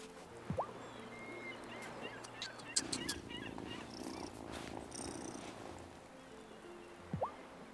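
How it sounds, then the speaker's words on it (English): Cats purring in the farming life game Wylde Flowers, a soft, low continuous purr with quiet game sounds, chimes and a couple of brief rising calls over it. "some kitties over here"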